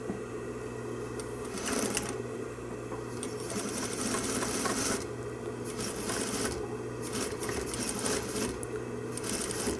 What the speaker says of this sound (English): So if I take it to the machine, and we can sew the first half of the seam.